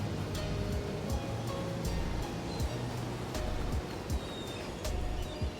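Ocean surf in the video game Path of Exile washes in a constant, dense hiss of waves with small splashes scattered through it, heard alone without voices.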